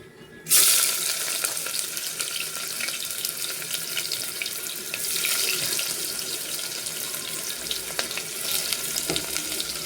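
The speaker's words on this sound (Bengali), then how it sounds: "এদিকে আমার তেলটা গরম হয়ে গেছে, এখানে আবার পেঁয়াজ দিয়ে দেবো" Onions drop into hot oil for an egg curry and burst into a loud, bright sizzle that continues as a dense, steady frying hiss with no one talking.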